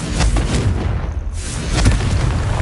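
A Confringo fire spell blast goes off in the Hogwarts Legacy video game: a loud, booming burst right at the start, with rumbling, crackling game sound continuing close and full throughout.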